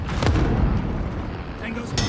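A flash grenade goes off in Call of Duty: Modern Warfare (2019) multiplayer, a dull booming burst early on, folded into constant battle noise while a voice talks over it.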